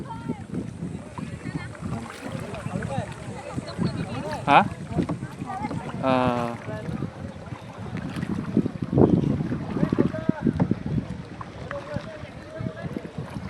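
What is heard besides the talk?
paddling a rowboat through mangrove water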